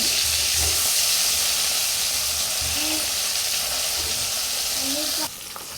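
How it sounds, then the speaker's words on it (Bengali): Fish frying in a pan gives a dense, steady hiss and sizzle that holds loud throughout, with faint low voices underneath, then drops abruptly near the end. "মাছগুলোকে আমি দুইভাবে ভাজতেছি"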